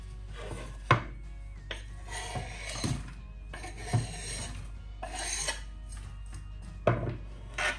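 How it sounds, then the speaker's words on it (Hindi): Tomatoes and green chillies are chopped, or just after chopping rasped and scraped, on a board in a home kitchen, giving sharp intermittent knife knocks and rough scraping strokes at an irregular pace, close and fairly loud. "टमाटर और सब्ज़ मिर्ची काट के रख ली हैं"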